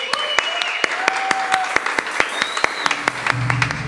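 Scattered concert applause at a silent concert at an arts venue, sparse and uneven claps over sustained electronic tones and a low hum, with a few sharp claps standing out near the front.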